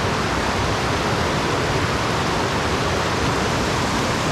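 Water flowing steadily where two creeks meet along a hiking trail, a dense continuous rushing roar, close and loud throughout with no pauses.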